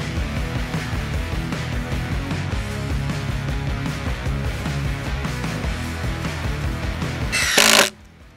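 An impact driver drives screws into wood on battery power, hammering in a dense, continuous rattle for several seconds before a brief louder burst and an abrupt stop.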